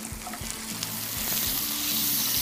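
Butter and vegetable oil sizzle steadily in a pan while the sauce for beyti kebab is started, a continuous close frying hiss with a few soft pops and no voices.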